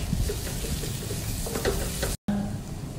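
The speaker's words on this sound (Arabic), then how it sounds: "وابدا احرك" Carrots, garlic and raisins frying in butter and oil, stirred in a pan with a close, busy sizzle and scraping, cut by a brief dropout near the end.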